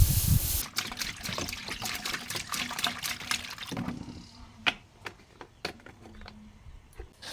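Water splashes and trickles across paving as it is rinsed after cleaning, with an initial loud gush easing into scattered drips and splatters close by.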